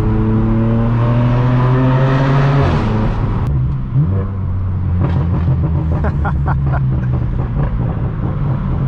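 A straight-piped BMW M4 F82 exhaust: the engine note rises loudly through acceleration, then crackling pops and bangs sound on the lift-off, heard close from the driver's position.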